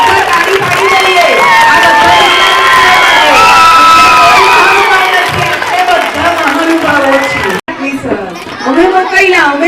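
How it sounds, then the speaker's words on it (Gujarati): Children cheer, shout and clap loudly at a school annual prize ceremony, forming a dense, boisterous crowd roar. Excited voices rise and fall over it, and a short break near the end cuts into the din. "આ બે આવવાનું નથી તો આપણે બધા તાળી પાડી દઈએ"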